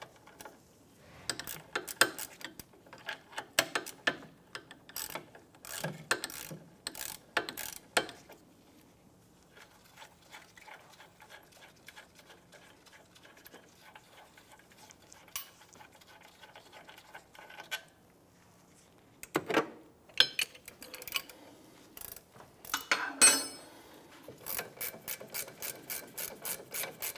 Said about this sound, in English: you go ahead and loosen and remove the two caliper bracket bolts.